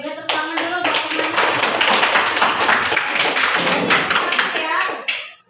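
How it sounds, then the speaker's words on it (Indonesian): Classroom applause for classmates, a dense, loud burst of many children's hands clapping close by for several seconds before stopping abruptly, with faint voices mixed in. "udah tepuk tangan dulu buat teman-teman"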